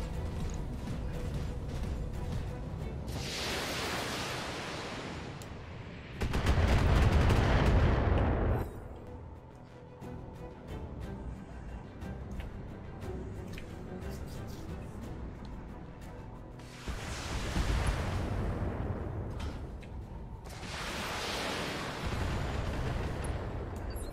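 Missile barrages in the Battletech video game boom and rumble in several heavy bursts, each lasting a few seconds over a continuous dense background of explosions and gunfire.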